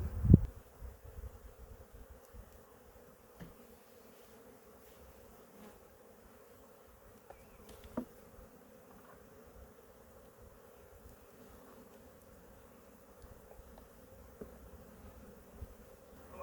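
Honeybees buzz softly and steadily around frames of capped brood during a hive inspection, a low continuous drone with a few closer passes and light handling knocks.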